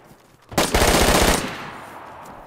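A short, loud burst of rapid automatic gunfire in the video game DayZ, rattling for under a second before fading into quiet.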